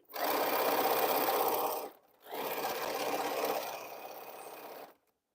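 A sewing machine stitching a T-shirt quilt runs in a steady, loud whir close by, pauses briefly, then resumes for several more seconds before stopping, with no talking.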